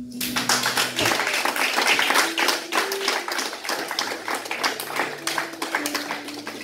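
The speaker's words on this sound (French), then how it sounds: "Acclame Jésus." A church congregation claps rhythmically during a Sunday worship service, a dense steady patter of many hands filling the room, loud and continuous, with faint sustained keyboard tones underneath.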